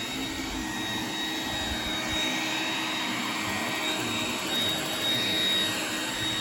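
Up close, an iRobot Roomba 980 robot vacuum runs in boost mode, giving off a loud, jet-like whooshing roar that stays steady and swells slightly near the end, with no voices.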